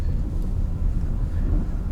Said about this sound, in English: You really hear the snow under the wheel.